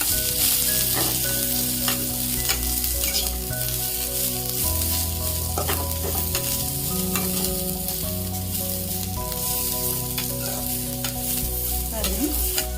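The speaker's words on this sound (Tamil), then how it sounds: "இது நல்லா ஃப்ரை ஆகுது" Ridge gourd frying in a pan for a chutney, a loud, steady sizzle with occasional stirring scrapes and a constant low hum underneath, no talking.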